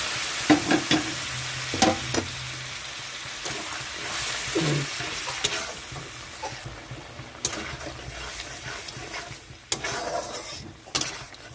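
Hot water goes into a pan of frying fish-head curry with potatoes, raising a loud hiss and bubbling that settles into a softer sizzle, punctuated by sharp clanks and scrapes of a utensil.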